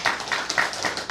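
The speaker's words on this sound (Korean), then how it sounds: "우리 격려하는 박수 한번 하시면 좋겠습니다." A church congregation at a Sunday worship service gives a short burst of rhythmic clapping, a few quick claps close together.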